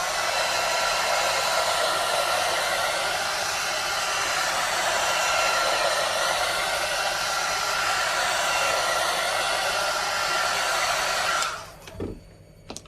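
A hair dryer blows steadily and loudly on decoupaged slate coasters for about eleven seconds, a continuous broadband roar, then switches off with a few faint handling clicks at the end.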